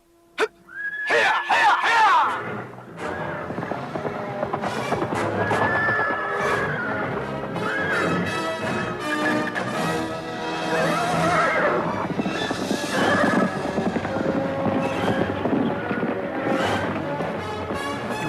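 Horses neigh and hooves gallop in a loud, busy radio-drama effects sequence, with whinnies rising over a steady clatter of many riders charging out together.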